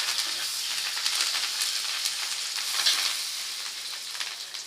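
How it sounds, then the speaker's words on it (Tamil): Garlic and curry leaves frying in hot oil in a pan give a steady, close, crackling sizzle with small popping bursts throughout. "எண்ணெய் ஊற்றிங்க சட்டியில், பூண்டு போடுங்க, கருவேப்பிலை போடுங்க"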